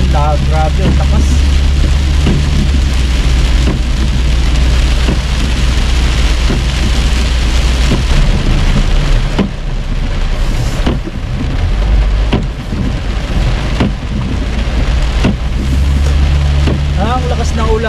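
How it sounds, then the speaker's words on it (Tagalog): Heavy rain pours steadily in Australia with a constant dense hiss and low rumble, likely heard from inside a vehicle on a road, continuing unbroken throughout with no voices. "Ang lakas ng ulan."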